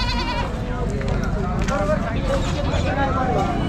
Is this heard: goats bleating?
yes